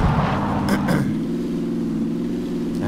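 The fastest car in the PUBG video game hums with a steady mid-pitched engine drone, close and constant, with a couple of brief knocks early on.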